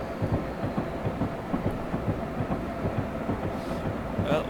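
An ACS-64 electric locomotive in Train Simulator 2015, heard while picking up speed down a descending gradient, gives a rhythmic clickety-clack of wheels over rail joints above a steady low rumble, close and continuous.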